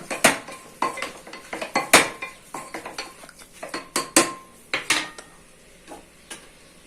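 Ram gizzard curry being stirred with turmeric in a metal pan, with a steady run of close, sharp spoon clinks and scrapes against the pan at an uneven rhythm, clear and fairly loud, with no talking.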